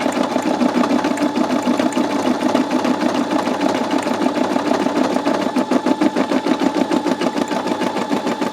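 A Brother SE625 embroidery machine stitches steadily up close, a rapid rhythmic mechanical clatter with a humming motor underneath, continuing without pause.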